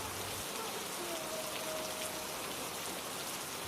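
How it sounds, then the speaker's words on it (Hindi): Heavy rain pours steadily outside, a dense, even hiss of drops on surfaces that holds at a constant level throughout with no voices. "बाहर बारिश पहले से भी तेज हो चुकी थी।"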